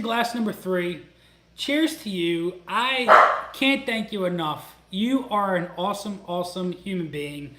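Small micro Bernedoodle barking in a home during a wedding livestream toast, faint and partly buried under continuous close speech, with one louder burst near the middle.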